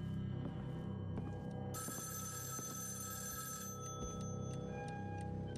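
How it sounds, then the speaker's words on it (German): An old-style bell telephone rings in the horror video game Evil Inside. The rings repeat and sound metallic and trilling, sitting over a low, droning background. "Oh ja, Telefon."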